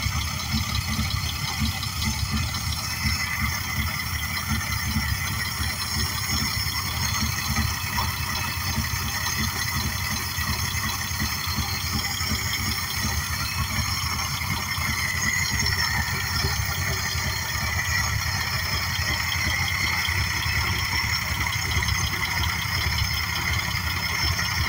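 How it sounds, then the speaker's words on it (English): A 1963 Ford F100 step-side pickup engine runs steadily at idle, a constant even drone with no revving or talk, heard close for the full length. "I've got a video that I'll put in here of the engine running."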